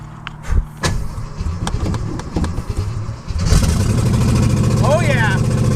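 A Fox body car with a swapped K code 289 V8 cranks with a few sharp clicks, then catches and settles into a loud, rough, steady idle, close by, with people talking over the start.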